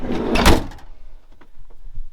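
A camper van's door is shut with one solid, heavy thud near the start, followed by faint lighter clicks and rattles from the latch settling.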